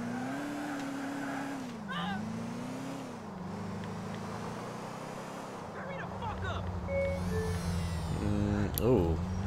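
A scooter engine in Grand Theft Auto 4 drones with a smooth, electric-like hum that rises and dips, with tire squeals and collision thumps near the end and talk over it.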